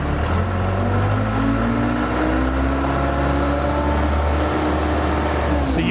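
An older Case 586C 6,000 lb diesel forklift engine is revved with its hand throttle, producing a loud, close rumbling drone that climbs steadily in pitch and stays unbroken throughout.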